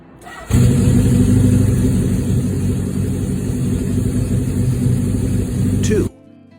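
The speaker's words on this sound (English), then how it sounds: "this unit fires on the first kick, a testament to its mechanical health" A vintage motorcycle engine fires on the first kick and settles into a loud, steady, close running rumble for about five and a half seconds before cutting off abruptly.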